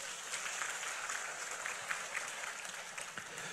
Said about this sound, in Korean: 이 시간 우리 하나님께 박수를 한번 영광 돌립니다.